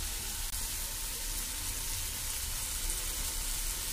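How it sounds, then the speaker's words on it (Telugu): Ginger garlic paste frying in a pan gives a steady, soft hissing sizzle, continuous and fairly quiet, with no voices. "పచ్చి వాసన పోయే వరకు అల్లం వెల్లుల్లి పేస్ట్ని బాగా ఫ్రై చేసుకుందాం."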